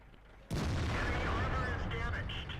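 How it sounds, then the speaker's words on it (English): Main gun of an E-75 heavy tank firing in World of Tanks: one loud, sharp blast that starts suddenly, then a long rumbling decay with clanking and ringing mechanical tails, no voice over it. "the rate of fire on the E-75 is not fantastic"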